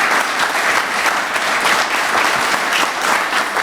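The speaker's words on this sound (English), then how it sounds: "we can give them a round of applause" A crowd at a Delaware governor's executive order signing breaks into loud, sustained applause, a dense, even roar of many hands clapping that holds for several seconds without talk.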